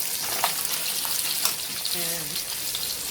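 Pork chops searing in a hot pan, a steady bright sizzle and spatter running throughout, with a brief voice sounding faintly beneath it.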